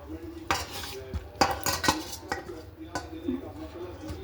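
Bottle gourd muthiya being sliced into small pieces with a knife, a handful of sharp, irregular blade taps and scrapes against a plate or board, close by with no talk.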